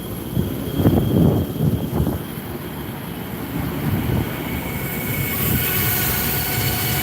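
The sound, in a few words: furnace blower running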